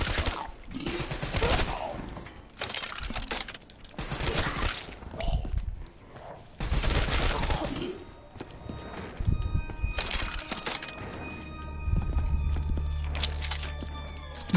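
Repeated bursts of gunfire shooting zombies in Call of Duty Black Ops 3 zombies mode, loud clustered volleys separated by short gaps, with game effects and a sustained tone later on.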